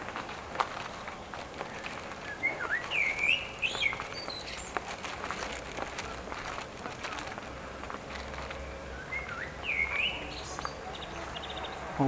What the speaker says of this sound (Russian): Ой, птички как поют.